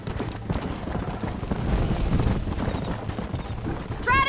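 Hoofbeats of a horse galloping in the video game Red Dead Redemption, a rapid drumming rhythm under game music and effects, swelling midway and ending with a brief whinny-like cry.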